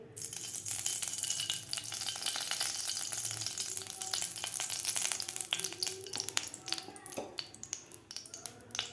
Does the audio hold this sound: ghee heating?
yes